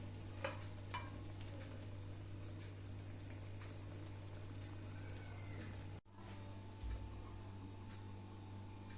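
Parshe fish frying in a covered pan gives off a steady, close sizzle and crackle. The sound dips for a moment midway, then carries on with the same even frying noise.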